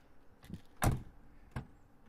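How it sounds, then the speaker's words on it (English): A single door of a 1999 Chevy Tahoe shuts with a solid thump, framed by a softer click before and a lighter knock after. "Door sounds good."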